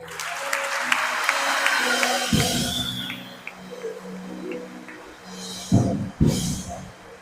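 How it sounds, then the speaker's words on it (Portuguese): Applause from a church congregation at a Portuguese-language conference rises in the opening seconds over a sustained musical tone, then thins to a faint patter while voices and a few louder bumps come through. "Enquanto as duas mãos, você tem uma aplauso aqui."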